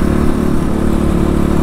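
A 2023 X PRO Titan DLX, a Chinese-made motorcycle, runs with a loud, steady engine drone heard up close, without clear rises in pitch.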